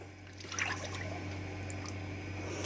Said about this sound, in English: Step is to add the other oils. So in with the lard.